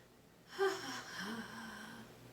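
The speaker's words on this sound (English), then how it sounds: "Take a breath in" A deep inhalation during a yoga twist, one drawn breath rising briefly then easing into a soft, steady airflow, close and fairly quiet with no talking.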